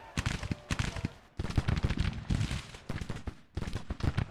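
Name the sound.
Civil War troops firing muskets in Grand Tactician video game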